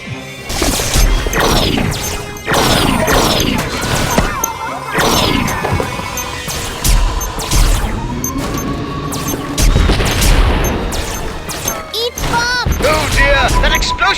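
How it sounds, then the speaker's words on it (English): A bomb explodes in the video game Destroy All Humans! Big Willy Unleashed, setting off a loud burst of crashes, bangs and smashing debris that repeats in waves, with game voices speaking between the impacts. "explosion was more effective than I feared"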